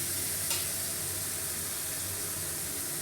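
Tomato goes into a pan of sizzling ginger, cumin, coriander powder and chili paste, with a steady hiss of frying and a faint stirring scrape, close and continuous with no talking.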